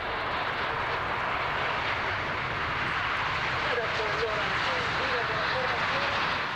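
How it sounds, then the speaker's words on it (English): Frecce Tricolori jet aircraft making a formation takeoff at an air show, a loud, sustained roar of several jet engines that swells slightly, with a commentator talking over it. "An immaculate formation takeoff."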